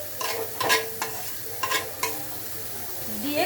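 Finely ground spiny gourd filling with its seeds being stir-fried in a pan: crisp sizzling under a handful of scraping and knocking strokes of a spatula, close, with a brief rising squeak at the end.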